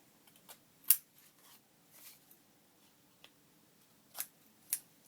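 Scissors trimming paper while crafting book page ephemera, a few quiet, crisp snips spread out irregularly and heard close up against near silence.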